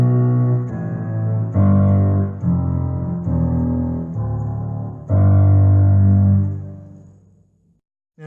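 A keyboard plays a descending bass line in octaves, about six sustained, fairly loud notes stepping lower one after another, the last fading out, heard alone with no talk.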